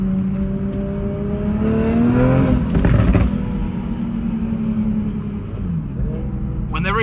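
Turbocharged Toyota Supra making about 700 hp, engine loud inside the cabin, pulling hard through the gears with rising whine and a shift, then settling, while a person speaks briefly.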